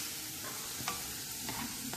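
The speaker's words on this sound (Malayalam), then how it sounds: "ഒരു ഉള്ളി മൂപ്പിച്ചെടുക്കുമ്പോഴുള്ളൊരു സ്റ്റിപ്പാണ്." Onions frying in a pan until golden for a spicy chicken fry, a steady close sizzle with faint stirring scrapes, no voices.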